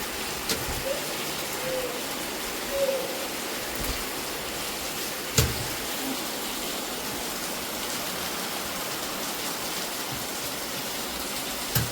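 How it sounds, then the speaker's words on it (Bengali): Heavy monsoon downpour pours steadily outside a home as a constant, dense wash of noise. A few faint knocks and drips break through now and then. "বৃষ্টি পড়ছে দেখেছো বাবা, ভালো মুষলধারে বৃষ্টি নেমে গেছে"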